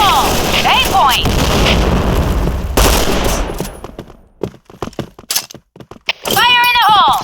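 Grenade explosions and rapid gunfire crash through a Point Blank match, a dense barrage of booms and bursts for several seconds, then sparse sharp shots and thuds with gaps between them, ending in another loud blast.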